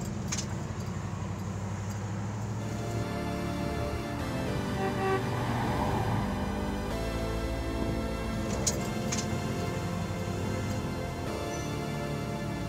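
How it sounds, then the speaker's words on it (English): A 1984 Jeep Wagoneer on a test drive gives a steady, full engine and road drone heard from inside the cabin, constant throughout with slight shifts in tone and a couple of faint clicks. "Let me turn the four-wheel drive off and we will continue with our test drive."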